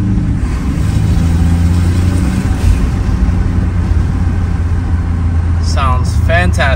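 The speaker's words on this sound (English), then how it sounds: "It sounds so much better without the turbo silencer fins on there and the cold air intake." A 2015-2020 Ford F-150 EcoBoost with a K&N cold air intake and the turbo silencer fins removed runs with a loud, steady, close engine drone. A voice speaks briefly near the end.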